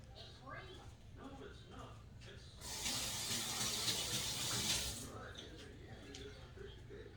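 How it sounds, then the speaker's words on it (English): Running sink water rinsing hands, a rushing splash for about two seconds in the middle, with quiet handling noises and a low kitchen background before and after. "Wash my hands again."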